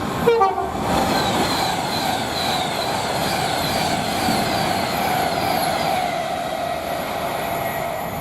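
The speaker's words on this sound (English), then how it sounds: "we've got 390-121 from Glasgow Central to London Euston" Class 390 Pendolino electric train on the West Coast Main Line at Nuneaton rushing past close by, a brief two-tone horn at the start, then a sustained loud roar and rumble of passing carriages with wind noise.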